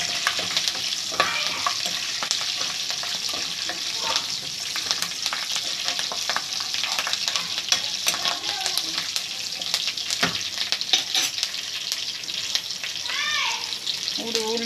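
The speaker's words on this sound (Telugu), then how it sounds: "కరివేపాకు కూడా వేసుకున్నారు. ఇవన్నీ కూడా ఆయిల్లో బాగా వేగిపోవాలండి." Curry leaves, dried red chillies, urad dal and mustard seeds frying in hot oil: a steady, close, crackling sizzle, with scrapes and knocks of a spoon stirring the pan throughout.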